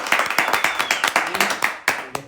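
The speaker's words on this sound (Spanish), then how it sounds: "un aplauso para todos" Sharp, close individual hand claps in an irregular rhythm from a small audience, with murmured voices faintly underneath.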